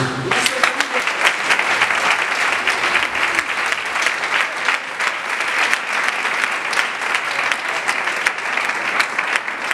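Sustained loud applause from a large church congregation at a wedding, dense clapping with some cheering, continuing steadily throughout.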